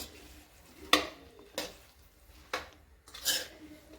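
Cauliflower being stirred into spiced tempering oil for a dry Maharashtrian bhaji, with four sharp scraping clatters of a spoon against the pan over a faint background sizzle.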